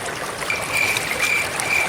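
Water flows continuously through a field channel, a steady close trickling and gurgling with no voices, holding an even level throughout.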